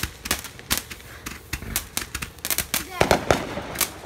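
Fireworks fire off a rapid series of loud pops and cracks like a Roman candle, with shots coming in quick uneven succession and voices faintly mixed in.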